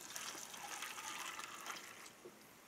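Water being poured into a metal mess tin while an Australian Defence Force ration is prepared, a steady, fairly quiet trickling pour that runs on for a couple of seconds.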